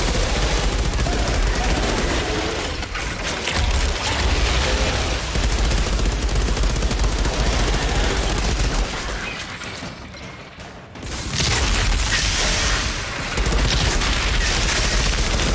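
Submachine gun fire in the video game Outriders, a dense, loud stream of rapid shots with booming impacts running almost continuously, with a brief lull near the middle before the firing resumes.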